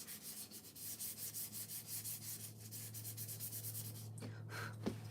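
Sandpaper lightly rubbed back and forth over a painted wood surface, steady rhythmic scratchy strokes close up, fairly quiet, with a low constant hum beneath and a couple of small knocks near the end.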